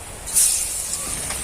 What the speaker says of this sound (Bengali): এবার একে একে ভেজে নেব